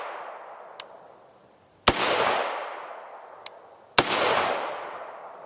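Two loud rifle shots of 5.56x45mm 77gr OTM Sellier and Bellot ammunition crack about two seconds apart, each followed by a long rolling echo, with faint distant pops in between.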